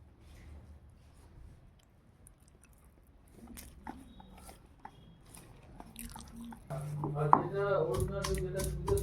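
A home meal of drumstick-flower fritters, fried aubergine, fenugreek-leaf dal and bitter gourd with potato curry being eaten, with soft crunches and chewing sounds that grow louder and busier toward the end, close to the listener.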